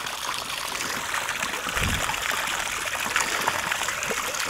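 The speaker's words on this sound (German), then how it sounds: "jetzt kommt normales, klares Wasser unten vom Teich" Clear pond water pouring from the outlet of a Pondovac 5 pond vacuum outdoors, a steady close trickling gush that runs continuously with no voices.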